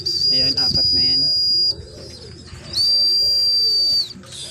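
Racing pigeons are called in for trap training with a loud, sustained high whistle in two long bursts, over soft pigeon cooing and faint background sounds.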